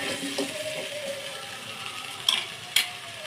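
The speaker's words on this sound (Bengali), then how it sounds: "এলাচগুলো একটু ভেজে নিচ্ছে।" Cardamom and cinnamon fry in hot mustard oil with five-spice seeds and bay leaves in a pan. The sizzle is a steady, close hiss with light stirring, broken by two sharp utensil clinks near the end.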